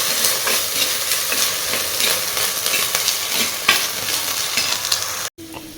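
Pirandai (adamant creeper) being sautéed in oil in a pan for village-style chutney, a steady loud sizzle with scraping stirs throughout, ending with a brief cut.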